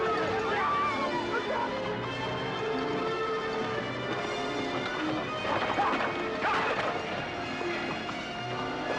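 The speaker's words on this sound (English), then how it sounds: "Look out, the horse is going into the fence." Horse galloping and crashing into a fence in a scene from the Western drama Stoney Burke: hoofbeats and a smash under a continuous crowd hubbub and shouting, loud and close throughout.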